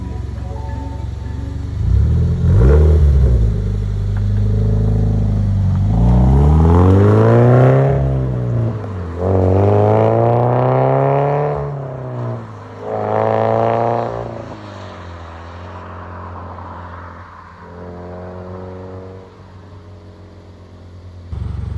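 A Toyota GT86 fitted with a Cobra cat-back exhaust revs loudly and close at hand, the engine climbing and dropping through several long rev sweeps and then settling to a throaty idle between pulls.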